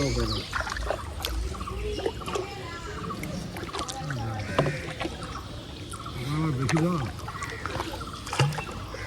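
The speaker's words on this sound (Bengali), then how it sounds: "এক হাত দিয়ে নৌকা চালাতে আর" Oars or a paddle of a small boat dip and splash in pond water at close range, with gentle trickling, while people talk nearby on a rainy day.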